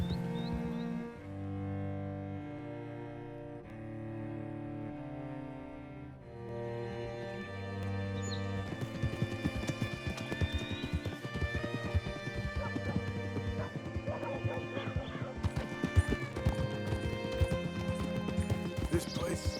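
Horse hooves clip-clopping with a whinny in the video game Red Dead Redemption 2, hoofbeats under steady game music and character speech.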